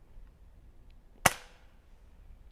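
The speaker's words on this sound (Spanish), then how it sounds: "aquí vamos a ponerle el cargador y vamos aquí a hacer su primer disparo" One sharp report from an Air Venturi Avenge-X .25 caliber PCP air rifle with synthetic stock, a single close crack with a quick decaying tail, alone in a quiet setting.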